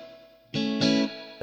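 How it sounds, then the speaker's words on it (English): Guitar through a spring reverb effect on a Donner Arena 2000 multi-effects unit, a struck chord entering abruptly after a quiet lead-in, then a second strum with a bouncy, splashy tail ringing out alone. "So we've got a spring reverb."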